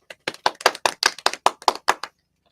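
About a dozen sharp claps in quick, slightly uneven succession, close and clear, then silence.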